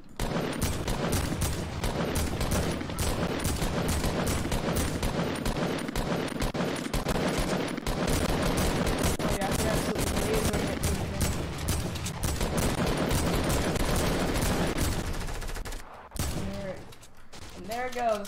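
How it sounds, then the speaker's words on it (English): Teammates fire guns in Fortnite, with rapid, dense bursts of automatic gunfire crackling almost without pause for about fifteen seconds before cutting off abruptly, followed by a few quieter sounds. "Now my team's shooting at something"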